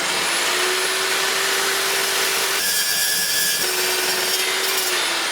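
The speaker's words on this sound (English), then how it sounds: "Just going to chop that off with the saw." A saw cuts a machined metal part free from a large piece of stock, giving a steady loud grinding hiss with a pitched whine that shifts partway through the cut.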